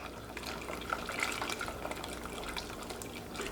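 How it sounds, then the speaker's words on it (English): A cornstarch mixture pours into smoked brisket gravy in a cast iron pan while being stirred, a soft, faint liquid trickle and swirl with gentle stirring, quiet and close. "Take your cornstarch mixture and pour a little in at a time while stirring"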